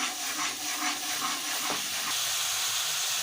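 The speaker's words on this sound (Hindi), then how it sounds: "ये इसकी हल्की हल्की फुटकी बन गई है" Water with vinegar heats in a cooking pot and starts to boil, giving a continuous airy hiss with faint bubbling, close and steady, with no voices.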